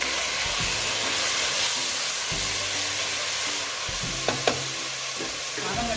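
Five finely chopped tomatoes fry in a pan, giving a loud continuous sizzle close by, while a spoon stirs them with scraping and a couple of sharp knocks against the pan.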